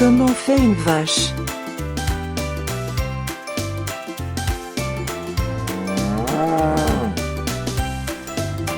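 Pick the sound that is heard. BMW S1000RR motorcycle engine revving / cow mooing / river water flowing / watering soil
cow mooing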